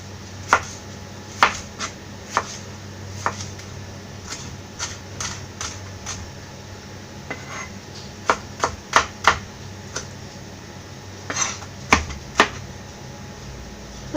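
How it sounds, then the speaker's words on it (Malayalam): Two tomatoes being diced into small pieces with a knife while making Kerala fish pollichathu, heard as sharp, irregular taps of the blade on a cutting board, moderately close, with a steady low background hum and no talk. "ഇനി ഇതിലേക്ക് ചേർക്കാനുള്ള 2 തക്കാളിയും കൂടെ ചെറുതായിട്ട് കട്ട് ചെയ്തെടുക്കാം"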